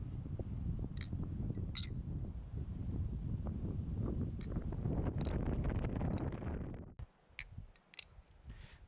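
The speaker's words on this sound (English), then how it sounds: "There's a whole bunch of wind." Wind blowing outdoors, buffeting the microphone as a steady loud rumble with a few clicks, cutting out abruptly near the end to a quieter background.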